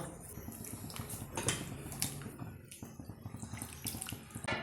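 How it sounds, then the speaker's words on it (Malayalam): Tamarind water poured into a pot of onion sambar, a close splashing pour with watery gurgles and a few light metal clinks. "ഇനി ഇതിലേക്ക് നമ്മൾ നേരത്തെ തയ്യാറാക്കി വെച്ചിരിക്കുന്ന വാളമ്പുളിയുടെ വെള്ളം ഒഴിച്ചു കൊടുക്കുക"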